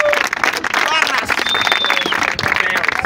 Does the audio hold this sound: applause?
yes